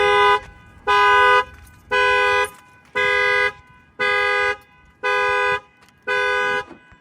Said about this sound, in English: So now if they bang on the glass, it's going to set off the alarm.